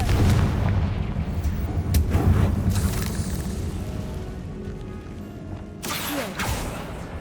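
Confringo fire-spell blast in the Hogwarts Legacy video game: a loud booming explosion with crackling bursts up front, a rumbling tail with creaks, then another sharp burst near the end.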